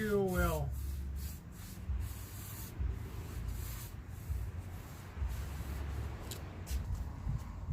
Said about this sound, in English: Working that paint in real well.